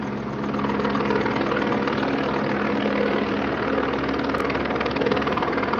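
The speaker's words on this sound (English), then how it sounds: "Man, those choppers are loud." Helicopters passing about 1,500 feet overhead at a college campus during a student protest, a steady loud rotor and engine drone holding constant throughout, with no talking.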